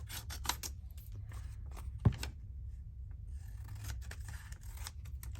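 Scissors snip repeatedly through paper pieces for a medieval botanical illumination project, giving quick crisp cuts in close, quiet succession over a low hum.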